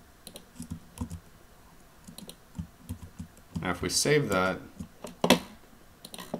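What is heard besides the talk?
typing on a computer keyboard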